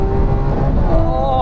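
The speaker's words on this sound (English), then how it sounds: "Let's put in its sporty setting Corsa and have some fun with this V12." A Lamborghini Aventador V12 in its Corsa setting revs loudly and close, a dense steady engine roar with a rising tone near the end.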